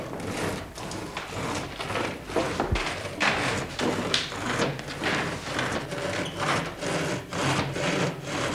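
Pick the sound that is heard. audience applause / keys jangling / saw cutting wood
saw cutting wood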